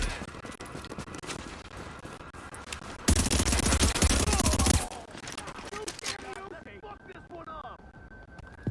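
Burst of automatic gunfire from a firefight in the video game The Division, a loud sustained volley lasting about two seconds amid quieter game sounds and talk.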